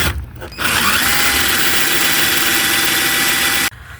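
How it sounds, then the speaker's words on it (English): A power drill bores a hole through a car dashboard to pass a wire, whining steadily and loudly at close range for about three seconds before stopping abruptly. "I'm gonna go ahead and drill me a hole right here for the wire"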